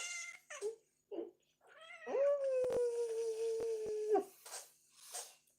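A cat lets out a long, drawn-out wailing meow, preceded by a few short chirpy sounds and followed by faint soft noises, fairly close.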